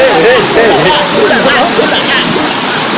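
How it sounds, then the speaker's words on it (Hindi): Soochipara waterfall in Wayanad, a steady broadband rush of falling water that fills the whole clip, with voices talking faintly over it. "ये है वाटरफॉल।"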